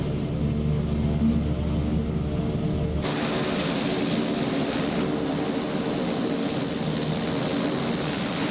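A Black Square BE6 propeller aircraft taxiing in Microsoft Flight Simulator, a loud continuous engine and propeller drone whose low tone drops abruptly partway through, then carries on as a steady hum.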